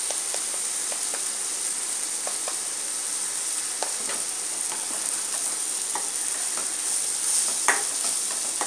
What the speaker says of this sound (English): Let it fry. It's getting fried now.